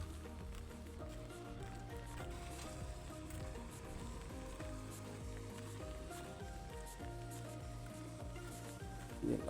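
Heavy, steady rain falls continuously near a dam in a village setting, a dense hiss of drops on surfaces that stays even and fairly quiet throughout, with no voices.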